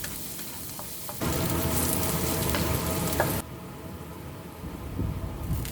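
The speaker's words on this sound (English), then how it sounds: "add 3 thinly sliced shallots. Stir them well until the shallots get soft." Thinly sliced shallots frying in hot oil while being stirred, a steady close sizzle that swells louder for a couple of seconds, then settles back to a softer crackle with occasional scraping.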